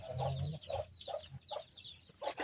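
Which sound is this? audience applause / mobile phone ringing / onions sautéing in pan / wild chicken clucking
wild chicken clucking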